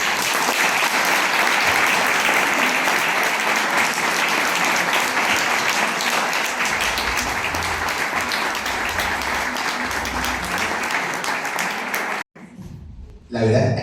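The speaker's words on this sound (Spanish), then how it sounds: "Quería pedir un aplauso" Sustained audience applause at a book presentation, a loud steady roar of clapping from a sizable crowd that drops out suddenly near the end, followed by a brief quieter moment and a burst of sound.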